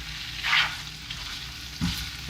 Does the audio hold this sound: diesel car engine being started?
no